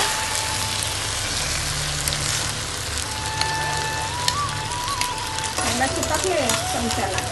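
Noodles being stirred and mixed with other ingredients in a hot pan, a steady sizzling hiss with scraping and clattering from the utensil throughout, under a person's talk.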